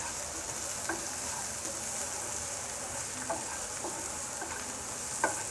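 Onions fry in a pan with a steady close sizzle while spices go in for a fish head curry, with a few soft clicks of stirring scattered throughout.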